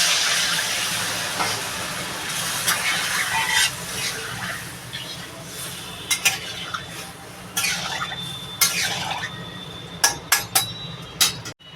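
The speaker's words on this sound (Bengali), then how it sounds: "এবার এটা ফুটতে দেবো" Curry with added water and slit green chillies heating in a pot, a steady hiss with bursts of bubbling and sharp crackles growing more frequent toward the end, close by.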